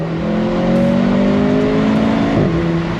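A Mercedes C43 AMG four-cylinder pulling hard from a stop, its engine note climbing steadily and loudly before a quick drop at a gear change, heard from close range without talk.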